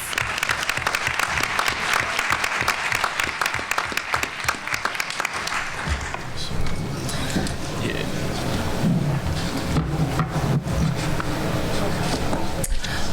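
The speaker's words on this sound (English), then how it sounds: "Another round of applause for our esteemed president." An audience applauds to welcome a speaker to the podium at a forum, with dense, loud clapping for about six seconds that then eases off into a softer, rumbling room wash and scattered claps.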